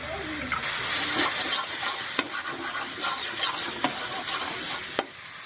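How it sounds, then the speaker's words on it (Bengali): Fried spice mix goes into a pan of oil for a village-style charapona fish curry, giving a loud continuous sizzle with scraping stirs and clicks from a spoon, close up and without talk. "এবার আমি ভেজে রাখা মশলাটা পরিমাণ মতো দিয়ে দেবো।"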